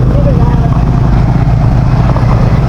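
Close and steady, a motorized tricycle engine idles in a low throbbing drone, with people talking over it as rain threatens.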